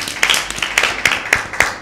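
Audience at a Lent season Bible quiz claps for a quiz team, a short burst of distinct, fairly close hand claps in an uneven rhythm.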